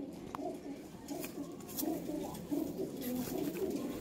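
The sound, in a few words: breeding pigeons cooing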